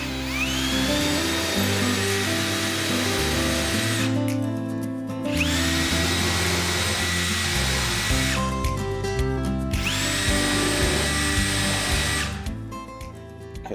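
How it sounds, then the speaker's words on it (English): A power drill bores a countersink into a wooden jig for a table saw rip fence, whining steadily in three long bursts separated by brief pauses, loud and close. "Now I'll do the countersink."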